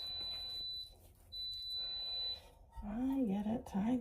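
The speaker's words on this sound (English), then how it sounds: "Stop the beeping already." A smoke alarm goes off in a kitchen during bread baking, giving two long steady high-pitched beeps, then a person speaks over the noise.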